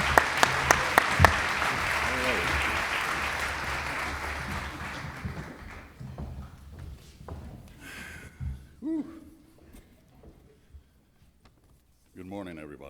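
Audience applause for Commissioner Ortiz at the City of Orlando 2020 oath of office ceremony: dense clapping for several seconds that thins out and fades as voices take over.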